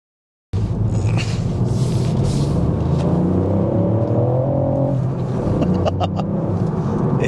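A 2023 Ford Puma ST with a 1.5-litre turbo engine, 200 bhp and a six-speed manual gearbox drives along. Its steady, loud engine drone and road rumble continue throughout, with a rising tone midway as it accelerates.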